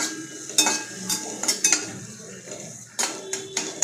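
Crushed garlic stirred in a hot pan, with scraping and clinking spoon strokes against the metal in irregular bursts over a faint background sizzle.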